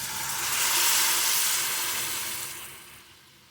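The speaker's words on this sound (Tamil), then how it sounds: "இப்போ நான் புளி தண்ணி கரைச்சி வச்சதை இதில் ஊற்றிக்கிறேன்" A loud sizzle as tamarind water hits a hot pan while making tamarind rice, swelling quickly and then gradually fading over a few seconds.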